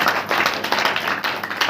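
Church congregation at a Saturday prayer meeting clapping hands, a loud, fairly quick run of overlapping claps continuing for nearly two seconds without talk.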